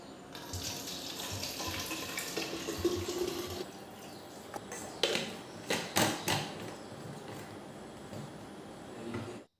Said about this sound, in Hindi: उनकी पानी की बॉटल्स फिल कर दी है